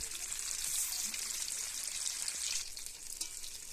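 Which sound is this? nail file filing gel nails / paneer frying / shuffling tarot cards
paneer frying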